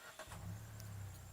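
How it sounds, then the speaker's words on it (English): A 2021 Chery Tiggo 7 Pro crossover's engine starts remotely from the key fob, a short catch followed by a steady, low idle rumble close by. "you could just remote start the engine just by pressing the lock button for 3 seconds"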